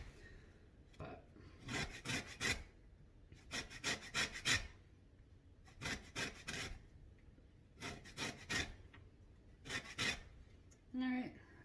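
Lemon zest scraped off on a grater or zester in repeated rasping bursts, close and fairly quiet, each run of quick strokes separated by short pauses.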